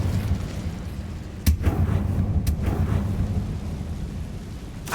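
A fire spell, Incendio, cast in Hogwarts Legacy bursts out as a sharp blast over a dense rumbling game backdrop, followed by a second burst moments later, with no talk.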